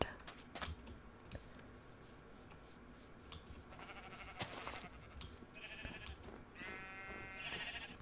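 Sheep bleating in Minecraft, a few short wavering bleats rising over soft clicking and faint background noise, quiet and close.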